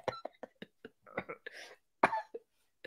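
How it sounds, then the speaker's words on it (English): A series of short, sharp coughs, some bunched together with throat clearing, close up and fairly quiet, with silence between bursts. "elbow cough."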